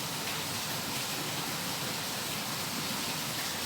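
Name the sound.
rain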